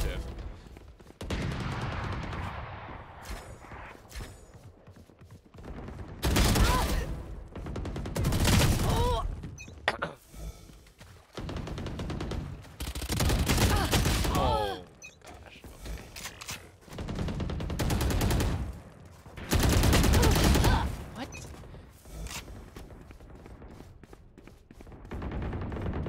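Gunfire in Valorant, several loud bursts of rapid shots in separate volleys, with a voice talking between and under them.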